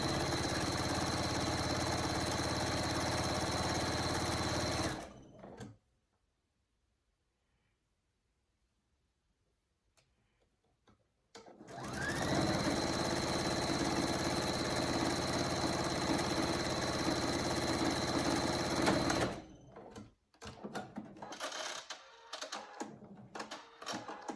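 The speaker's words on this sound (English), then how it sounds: "you're going to sew a 1/2 inch seam down the side of the opposite side of the fold" An electric sewing machine stitching a half-inch seam along a fabric microbat pouch gives a steady, close motor hum. It runs for about five seconds, stops during a long silent pause, then runs again before trailing off into quieter handling noises.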